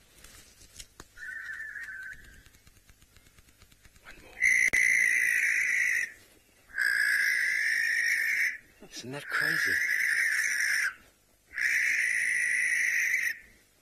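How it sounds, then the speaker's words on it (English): A barn owl gives a series of long, harsh, hissing screeches, four loud drawn-out calls with short pauses between them, after a fainter opening call, and a person briefly speaks between screeches. "Do you want to listen to the call of the barn owl?"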